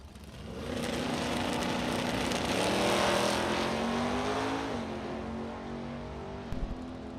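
A Vega wagon drag car launches at a drag strip: a loud, sustained engine roar rises as it pulls away, with its pitch shifting through gear changes before fading into the distance.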